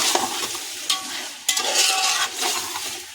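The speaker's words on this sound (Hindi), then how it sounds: "डाल देंगे इसमें अदरक लहसुन का पेस्ट। इसको भी अच्छे से भून लेंगे।" A thick ginger-garlic paste sizzles and spatters in hot oil while being stirred for chicken biryani, with scraping bursts over a steady frying hiss.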